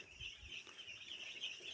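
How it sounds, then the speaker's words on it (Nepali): Day-old broiler chicks in a brooder give a steady, high, continuous chorus of faint cheeping with no voices over it. "यो हुन् ब्रोइलरका चल्ला, एक दिने चल्ला आज मैले हालेको छु।"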